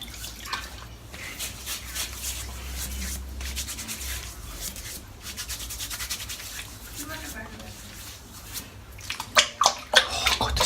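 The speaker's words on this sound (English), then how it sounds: "I'm going to wet my face with the bloom water" A wet shaving brush soaked in bloom water is rubbed over a face, giving soft, continuous wet swishing and scrubbing that grows into sharper splashy strokes toward the end.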